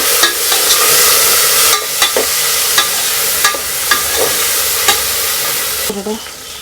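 Cut potatoes and green chillies sizzle in hot oil in a pan for home-style sambar, with a steady close frying hiss punctuated by repeated scraping stirs of a spatula.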